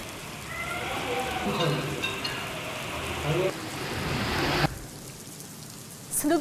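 Heavy rain pours steadily across Nashik city during an evening downpour, a dense continuous hiss on surfaces with a sharp shift partway through, loud and close throughout.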